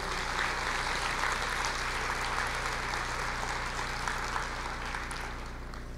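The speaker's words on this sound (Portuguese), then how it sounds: "Você pode aplaudir o Senhor?" A church congregation applauds, a continuous rolling wash of clapping that holds steady and slightly fades at the end, set against a low mains-like hum.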